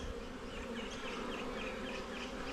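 Honey bees buzz around an open hive during a rainy-day inspection, making a dense, steady drone of many wings close by with faint passing whines and no talk.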